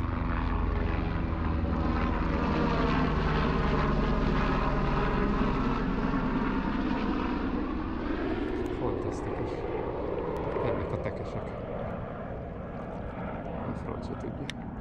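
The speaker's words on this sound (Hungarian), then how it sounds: "még megjön egy helikopter mindjárt" A helicopter passes loudly overhead during a fishing outing, its steady engine and rotor roar filling the air, then slowly fading as the craft moves away.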